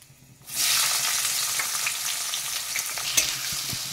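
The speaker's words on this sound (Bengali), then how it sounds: "পেঁয়াজগুলোকে একটু ভালো করে ভেজে নিচ্ছি, একটু সামান্য লাল লাল কালার আসবে।" Sliced onions hit hot oil for mutton curry, with small cardamom already in the pan; a loud, dense sizzle bursts in after a brief quiet start and keeps crackling close by.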